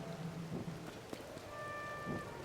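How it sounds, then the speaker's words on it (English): Rain falling in the video game Tears of the Kingdom, a faint steady wash of rainfall with a soft distant rumble, low in level with scattered game tones. "It is also under rain, but that's okay."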